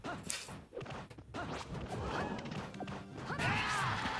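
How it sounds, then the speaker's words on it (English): Link's down smash attack in a competitive Super Smash Flash 2 match gives sharp crashing hits and swishing whooshes over a dense, busy layer of game effects and background noise. "The Link wake up down smash."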